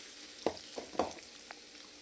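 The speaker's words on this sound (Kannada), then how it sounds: "ಈಗ ಇದನ್ನು ಒಂದು ಸ್ವಲ್ಪ ಹೊತ್ತು ನಾನು ಎಣ್ಣೆಯಲ್ಲಿ ಫ್ರೈ ಮಾಡ್ಕೊಳ್ತಾ ಇದ್ದೀನಿ." Whole garam masala and crushed garlic fry in oil in a pan for a mushroom curry, giving soft sizzling crackles with a few brief spatters that rise in small bursts over a quiet background.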